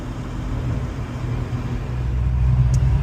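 A 1987 Mercedes W460 250GD turbo diesel G-Wagon cruises on a road at roughly highway speed, giving a steady low engine drone and road rumble that swells slightly near the end, with no talking.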